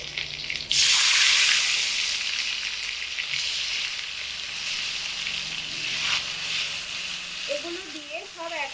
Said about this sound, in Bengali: এবার তেলের মধ্যে দিয়ে দেব কাঁচা লঙ্কা।